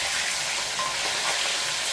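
Pork crackling pieces fry in hot oil with a loud, dense, continuous sizzle and fine popping spatter, close up and steady throughout.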